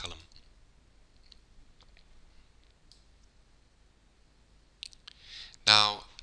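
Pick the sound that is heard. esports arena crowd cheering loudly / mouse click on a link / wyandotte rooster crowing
mouse click on a link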